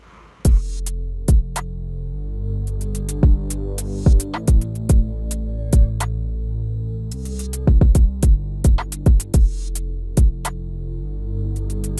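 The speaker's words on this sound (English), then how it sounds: "I just copied the root notes and it sounds like this." An Omnisphere bass line in an ambient RnB beat, playing deep root notes as a heavy sustained low drone under the recurring kick and percussion pattern, with nobody talking.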